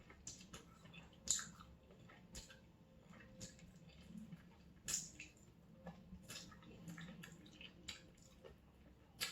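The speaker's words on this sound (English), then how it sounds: "I can't chew the gristle." Gristly Korean fried chicken wings are chewed close up, with quiet, moist mouth sounds broken by sharp clicks and crunches at irregular intervals.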